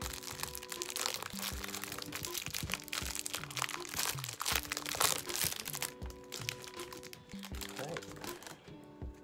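Cellophane and cardboard crinkling and crunching as a Donruss basketball card hanger box is opened and its packs handled, fairly close and continuous, with someone talking over the rustling.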